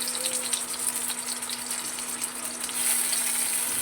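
Onion paste frying in oil in a pan for mustard hilsa, giving a steady broadband sizzle and hiss that swells slightly toward the end, close by and with no talking.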